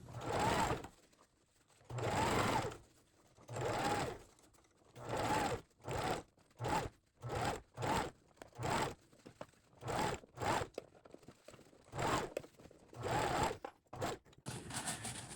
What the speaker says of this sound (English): you're going to be sewing this hat part to the brim